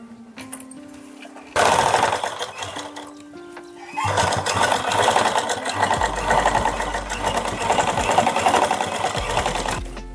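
A sewing machine runs close and loud while stitching along the neckline of a suit, starting with a short pause and then bursting into long runs of rapid, rattling stitching.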